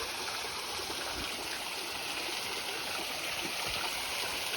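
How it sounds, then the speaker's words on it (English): A waterfall pours into a natural hot spring, making a steady, dense rushing roar of flowing water that stays constant and fairly loud throughout, with no voices. "Look at this hot springs with a waterfall."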